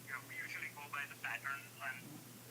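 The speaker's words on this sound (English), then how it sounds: "So I'm going to put him on speakerphone." A voice comes through a telephone on speakerphone during a call, thin and tinny with a steady low electrical hum underneath, short bursts of speech broken by pauses.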